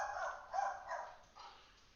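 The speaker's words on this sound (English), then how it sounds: "the dogs are going crazy" Several dogs bark in short bursts nearby at a workers' site, a few yips spread across two seconds, fairly faint with no talk over them.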